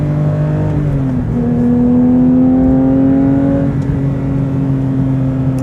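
A Porsche GT3 with a Manthey Racing setup rev-matches on a downshift: the close, sustained engine note dips, then blips sharply up in pitch and settles into a steady high drone, with no talking.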